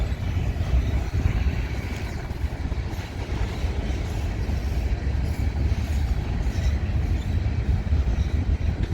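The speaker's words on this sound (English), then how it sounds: "now it's actually a CPKC grain train" A long CPKC grain train rolls past in Minneapolis, its wheels and cars giving a continuous loud rumble with rattling and faint clatter throughout.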